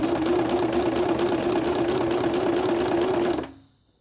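A sewing machine runs steadily, stitching boning into fabric with a fast, even mechanical whir, then stops abruptly near the end.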